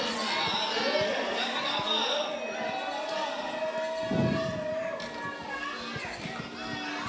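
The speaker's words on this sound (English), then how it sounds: "You can hear the crowd cheering on Haruko coming from so far away." Crowd cheering from far off for an ice climber at a climbing competition final in Bern, Switzerland, a faint, diffuse mix of shouts and chatter under nearby talking.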